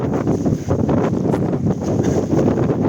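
Fierce wind gusts over the open slopes of Helgafell mountain during extreme weather, a steady, heavy rushing and microphone buffeting that never lets up, with no voices.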